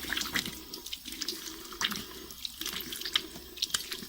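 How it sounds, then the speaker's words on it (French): Tap water runs into a sink while a face is rinsed after cleansing, a faint irregular splashing and trickling with brief louder splashes as hands scoop and pour, heard close in a quiet room. "On rince."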